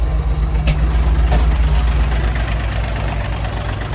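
A Fighter T-254S mini tractor engine idles loudly and steadily nearby, a low rumbling chug with a faint rhythmic knock throughout, no voices.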